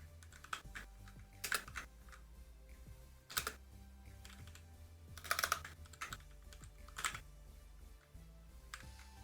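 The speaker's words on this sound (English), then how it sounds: "We type in, "Hi, I'm Marta, cat shelter keeper." Rapid keystrokes on a computer keyboard while a greeting is typed into a program, heard in uneven bursts of clicks with short pauses between, close and fairly quiet, with no voices.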